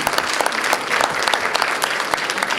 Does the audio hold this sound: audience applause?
yes